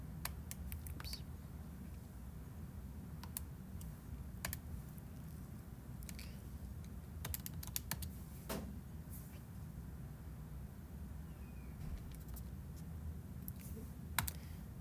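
Calculator keys pressed in a quiet room, with sparse sharp clicks arriving singly and in short quick bursts over a low steady background hum, no talking.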